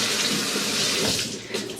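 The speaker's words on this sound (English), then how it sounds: "then rinse the rest of the seeds out" Tap water runs steadily into a kitchen sink while bell pepper seeds are rinsed out by hand, a continuous splashing flow that shifts slightly as the stream hits the pepper.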